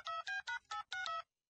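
A telephone keypad sounds six quick dialing tones in steady succession, each a short, bright beep, and then the line goes silent.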